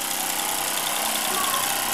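A 1920s Joseph Falk overtype steam engine runs steadily with a dense, even mechanical hiss and chugging hum, close and continuous throughout.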